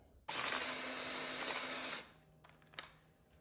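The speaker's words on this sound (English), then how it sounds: "It's just a drill and holding it by hand." A hand-held power drill whirs loudly and steadily for under two seconds as it bites into cast iron, then stops, followed by a few light clinks.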